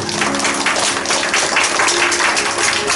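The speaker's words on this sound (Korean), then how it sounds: "우리 교회 잘해서 박수를 주세요" A church congregation applauding during a revival service, dense continuous clapping filling the room at a steady level, with no voice standing out.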